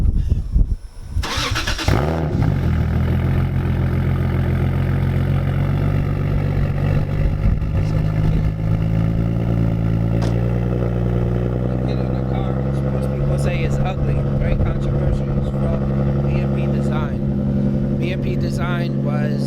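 A BMW E30 fitted with a Toyota 2JZ engine fires up from cold, then settles into a loud, steady, deep idle that runs throughout, with some people talking nearby.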